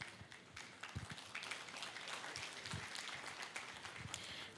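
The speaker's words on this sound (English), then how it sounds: "please give them a big round of applause" A seated audience at a panel discussion on investing in Pakistan's economy claps steadily, a faint, even wash of applause heard from a distance.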